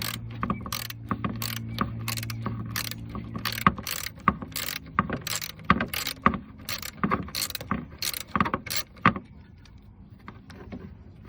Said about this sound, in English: You're gonna need to remove the bolt, so I'm gonna move that right now.